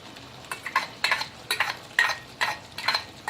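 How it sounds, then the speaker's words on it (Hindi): Tomatoes are stirred into fried onions in a pan, giving a soft sizzle punctuated by a rhythmic series of scraping stirring strokes, close and fairly quiet. "अब हमारी प्याज अच्छा सा भुन गया है। अब हम इसमें टमाटर डालेंगे।"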